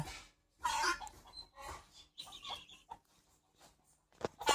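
A hen stands and calls out, giving irregular bursts of clucking and squawks, fairly faint and spaced apart, with brief pauses between calls.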